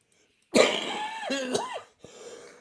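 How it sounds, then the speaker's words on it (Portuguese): A single harsh, close cough bursts out, followed by a raspy, strained throat sound and a faint breath. "Tem que cuidar dessa tosse."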